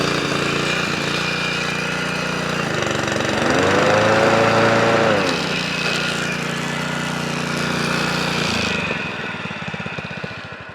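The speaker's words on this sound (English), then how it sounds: "But my lawnmower runs beautiful." A small engine runs steadily and loudly, its drone rising briefly in pitch midway before settling, then cutting down near the end.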